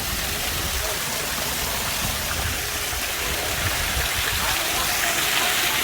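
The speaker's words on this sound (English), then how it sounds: "Wow. We have waterfall." Water pours continuously down a newly built waterfall at a beach house under construction in Bohol, Philippines, a broad steady splashing rush filling the scene.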